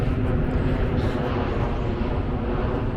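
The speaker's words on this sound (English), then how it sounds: "And the airplane going overhead." An airplane flying overhead at a roadside attraction garden, a broad, steady engine roar that stays loud and constant throughout with no clear pauses.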